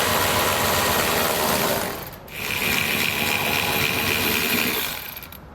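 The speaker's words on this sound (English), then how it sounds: "We'll remove both the bolts using a 15mm socket." Exhaust bracket bolts on a 2017 Chevrolet come out under a 15mm socket on a power tool, a loud continuous buzzing whir that cuts out briefly, resumes, then winds down, with no talk.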